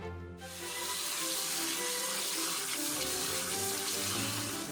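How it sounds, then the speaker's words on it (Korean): Fresh spinach is rinsed under a running kitchen tap, a steady close splashing rush of water filling a sink basin for several seconds without any voices. "물에 2번 정도 씻어서 흙을 닦아냅니다."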